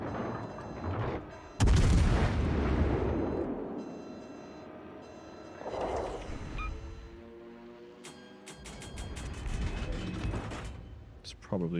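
Warship guns and explosions from the naval combat game World of Warships: Legends, with a loud heavy boom near two seconds followed by rumbling impacts and mechanical battle noise, partly under gameplay speech.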